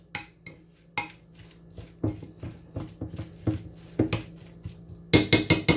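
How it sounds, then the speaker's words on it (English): A spinach cheese dip being mixed by hand in a bowl, giving a close series of irregular clinks, scrapes and knocks of utensil against the bowl, with a sharper burst of rapid clatter at the end. "So you can see we're getting that fairly well mixed in."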